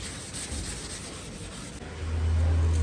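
An old car headlight being hand-sanded with coarse sandpaper, a continuous dry rubbing rasp that grows a little louder near the end, heard up close.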